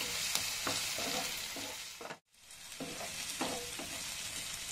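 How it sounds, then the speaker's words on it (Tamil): Ginger garlic paste sautéing in a pan while making an egg gravy, a continuous close sizzle with spoon scrapes, a sudden brief drop to near silence in the middle, then the frying resumes. "நல்லா இஞ்சி பூண்டு பேஸ்ட் வதங்கிடுச்சு."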